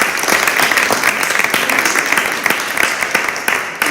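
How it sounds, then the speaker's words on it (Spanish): An audience at a critical-thinking session breaks into loud, sustained applause, a thick continuous patter of many hands clapping that holds steady throughout without noticeable talk. "Os damos un aplauso"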